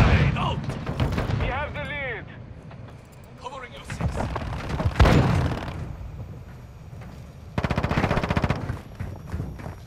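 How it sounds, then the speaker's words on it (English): Airstrike explosions in Call of Duty: Modern Warfare II, heavy booming blasts mixed with rapid gunfire bursts, loud and close, with voices and radio chatter speaking over the combat. "Airstrike in the AO."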